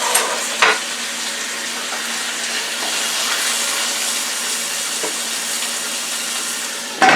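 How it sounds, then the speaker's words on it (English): Onions and peppers sauté in a hot pan alongside a honey teriyaki T-bone steak, giving off a steady, close, loud sizzle. A couple of brief clatters sound at the start and end, with no talking. "here's our sauteed onions and peppers"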